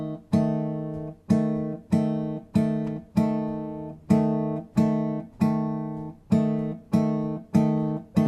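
Fingerpicked bossa nova guitar chords played legato, each chord plucked and left ringing in an even, repeating pulse, close and clear with no other sounds.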